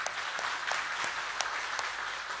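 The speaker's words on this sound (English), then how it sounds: "So we just give a big applause" An audience at a special lecture for a class of Buddhist monks applauds steadily, with sustained clapping at moderate distance, no voices heard.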